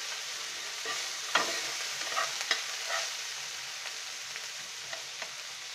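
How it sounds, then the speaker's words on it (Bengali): Ginger garlic paste is stirred in a hot pan, and a steady sizzle of frying runs underneath. Sharp scraping strokes come from the spoon at irregular intervals. "আমরা দিয়ে দিচ্ছি আদা রসুন বাটা 1 চামচ, দিয়ে আমরা একটু নেড়ে নিব"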